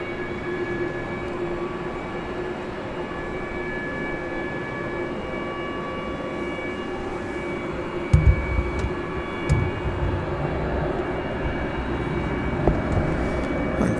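A Boeing 787-9 Dreamliner moves at DFW airport at night, its engines a steady distant rumble and whine, with a low thud and a louder rumble near the end.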